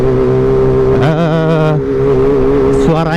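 A motorcycle fitted with a Pro Speed Black Shark silencer drones loudly and close, climbing in a sharp rev about a third of the way in, then settling before another brief rise near the end. No one talks.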